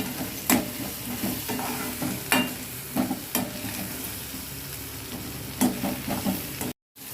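Guava chutney ingredients, including guava, sauté in a pan with a low sizzle under repeated stirring scrapes and clinks of a spoon, close and steady, followed by a brief silence near the end.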